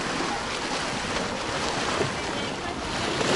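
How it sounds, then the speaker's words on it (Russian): Sea waves wash steadily at the Muratpaşa municipal beach in Turkey, a continuous broad rushing surf mixed with wind buffeting the microphone, with no clear breaks. "Есть волны"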